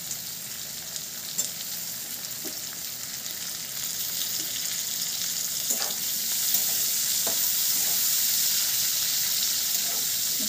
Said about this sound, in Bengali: আমাদের টমেটো কুচি দিয়ে দেবো।